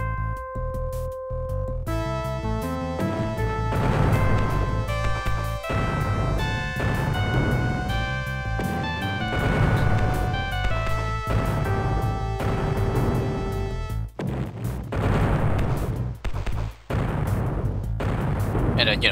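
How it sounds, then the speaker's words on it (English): Celebratory fireworks display for earning a medal in the video game Bodyworks Voyager: repeated synthetic bursts and booms over bright tonal game music, lasting several seconds before a sharper, noisier final stretch. "fireworks display to celebrate"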